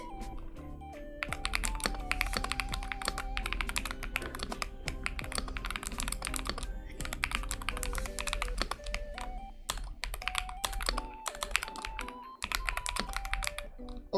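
Typing runs steadily on a mechanical keyboard with linear switches and strawberry milk ice keycaps, a fast continuous patter of clicks and thocks heard up close over background music, with short pauses.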